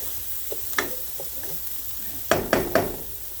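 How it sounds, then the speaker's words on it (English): Pork cube steak cutlets sauté in a hot skillet, giving a soft, steady sizzle at moderate volume with a few sharp scraping or clinking accents from stirring toward the end. "So I'm gonna let these saute for just a few minutes."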